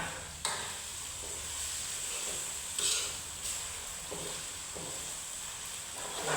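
Meat fries in a hot pan with a steady close sizzle and hiss, stirred now and then with brief scraping clatters, and no voices.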